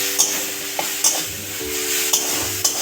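Kundri leaf paste fries in a pan as the water cooks off, a soft steady sizzle broken by several distinct clinks of a spoon stirring against the metal.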